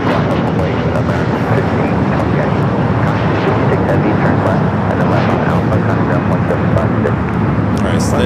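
A DHL cargo airplane takes off at LAX, its loud, steady jet roar filling the whole stretch and staying close and continuous with no pause.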